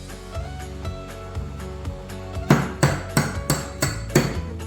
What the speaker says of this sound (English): we're going to put a little poker thing in here, and we're going to tap it gently with a hammer